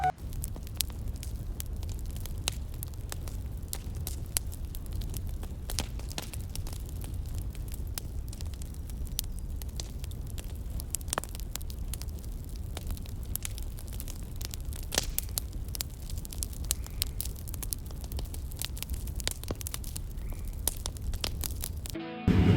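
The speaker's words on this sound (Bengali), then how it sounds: "তো চলো উনুনটা আমি জ্বালিয়ে দিই।" Fire being lit in a clay stove outdoors by a pond, a continuous low crackling roar with scattered sharp pops and snaps, close and steady throughout.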